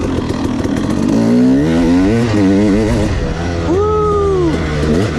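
A 2016 KTM 300 XC two-stroke dirt bike surges under throttle, its loud, close engine note rising and falling in wavering revs, with a brief whistling sweep near the end.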